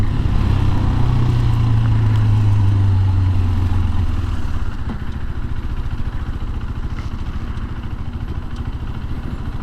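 A 2023 KTM RC 390 sport bike accelerating onto a highway, its engine droning loudly and steadily before the note drops midway, then a rougher running hum mixed with wind rush, recorded from the rider's position.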